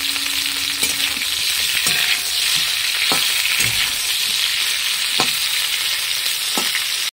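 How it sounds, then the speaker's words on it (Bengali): Cauliflower and lentil fritters frying in hot oil in a pan, a continuous loud sizzle with occasional clinks of a utensil stirring, no voices. "সব একসঙ্গে দিয়ে ভেজে নিলাম।"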